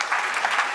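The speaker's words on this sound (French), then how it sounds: "Je voudrais qu'on les applaudisse, s'il vous plaît, ils le méritent" Audience applause at an awards ceremony: a steady wash of clapping from a crowd, even and continuous through the short moment with no voices over it.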